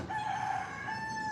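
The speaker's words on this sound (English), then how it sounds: "Y'all hear the rooster outside?" A rooster crows outdoors, a single sustained call at moderate distance, heard alone without talk for just over a second.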